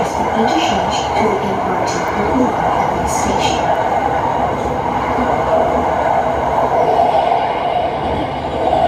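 Bangkok MRT Purple Line electric train running: a continuous loud rolling rumble and rail noise with a few faint wheel squeals, heard alongside steady traffic.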